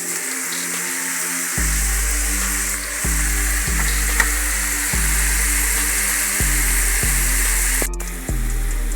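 Ackee and saltfish fry in a pan with a loud, steady sizzle, broken by a regular series of stirring scrapes about once a second, close up and with no talk.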